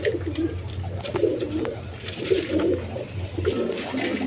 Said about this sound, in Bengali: দেখেন একদম কোয়ালিটি সম্পন্ন কবুতর দেখেন